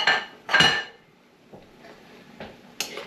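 Goulash stirred in a metal pot, a few distinct scraping clinks of a spoon against the pot separated by quiet gaps, close by, with no speech.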